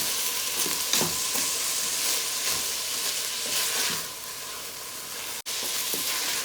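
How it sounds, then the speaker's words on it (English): Garlic and vegetables sizzle steadily in a frying pan as they are stirred, with a constant bright hiss and occasional scraping, close up and with no voices. "So I'm just going to stir this up a little, the garlic, to mix in nicely with all the other vegetables."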